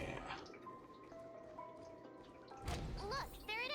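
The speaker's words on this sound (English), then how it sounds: "I think I hear the sound of water." Fountain water in a video game, a soft continuous trickle and drip under low ambient music tones, with a louder splash near the end and rising chirp-like notes after it.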